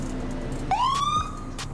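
A police siren on a nighttime street patrol near the University of Berkeley gives a brief rising wail that holds at a steady pitch, fairly close and loud, then cuts off.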